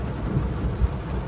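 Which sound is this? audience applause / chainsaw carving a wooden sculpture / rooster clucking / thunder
thunder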